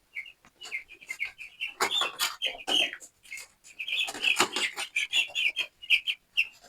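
Week-old broiler chicks peep in high, sharp, repeated chirps close by, busy and uneven as they are handled, with no talk.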